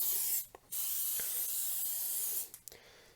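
Two long, close bursts of coconut oil aerosol cooking spray hiss loudly, separated by a brief pause, with a short spurt and faint clicks at the end.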